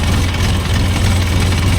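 A tractor engine runs steadily while spraying a field, a loud, low, constant drone with vibration and no talk.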